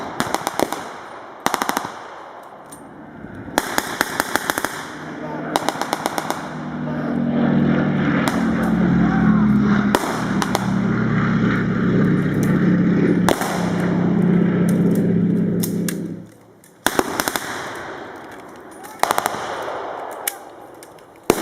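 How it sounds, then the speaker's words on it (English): Gunfire from a World War battle reenactment in a park: sharp rifle shots and bursts of machine gun fire ring out in clusters, with a steady rumbling drone between volleys. "what the Allies will attempt to do here is fire and miss two shots"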